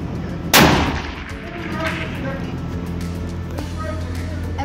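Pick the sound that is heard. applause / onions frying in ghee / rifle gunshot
rifle gunshot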